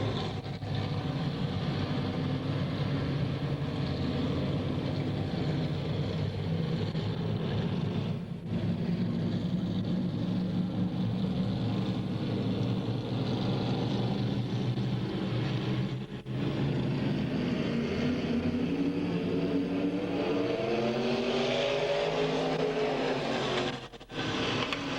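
Modified race cars circle Midvale Speedway in a pack, their engines a sustained, somewhat distant roar that rises and falls in pitch as they work through the turns.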